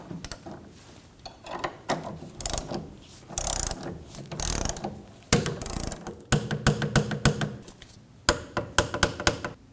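A torque wrench tightens the rear sway bar link on a 1993-2001 Subaru Impreza, giving close, sharp ratcheting clicks in quick bursts with short pauses between them.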